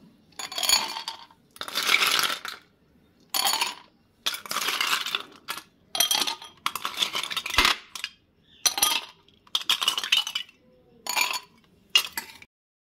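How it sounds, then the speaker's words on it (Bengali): Ice cubes clatter into two glass tumblers in a series of about ten sharp clinking bursts, each separated by brief silence, close and fairly loud with no talking. "ice cube"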